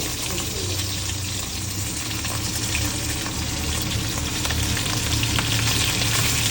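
Pork sizzles and fries in a pan while being stir-fried for a Khmer palm sugar stew, a steady close crackle with occasional stirring scrapes throughout.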